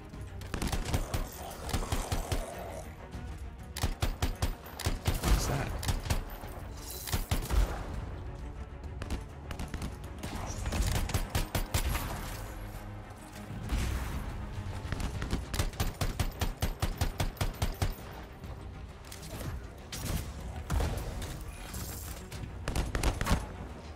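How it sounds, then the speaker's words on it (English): Dense gunfire and explosions fill combat in the video game Anthem, with rapid bursts of shots and heavy blasts repeating nearly without pause. The fire is loud and chaotic and carries no clear speech. "These explosions make it impossible to do anything."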